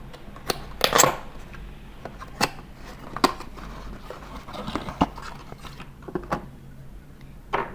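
Unboxing a 2-in-1 corner cutter and slot punch machine: soft rustling of packaging with scattered sharp crinkles and taps, close and fairly quiet.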